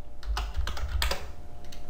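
Close keystrokes on a computer keyboard tap out in a quick, uneven burst, each key clearly audible over low room hum.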